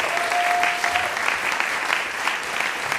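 An audience at an on-stage conversation during a film festival applauds, a sustained, dense patter of many hands clapping at a steady level, with a brief faint tone near the start.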